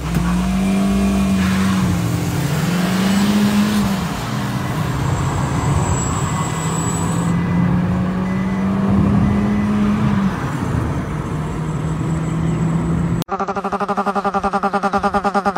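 A Tara and a Peugeot Pars TU5 race side by side in a drag race, their engines roaring loudly and rising in pitch through the gears, close and continuous, ending in a sudden harsh buzzing cut.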